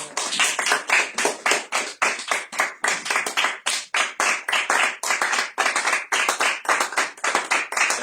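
Church congregation clapping steadily and fast in unison, a dense, loud run of handclaps filling the whole stretch with no pauses.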